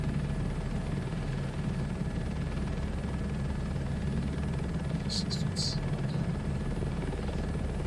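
A helicopter in the video game Microsoft Flight Simulator 2024, a steady, loud, low rotor drone and engine hum that continues without a break, with a few brief high chirps partway through.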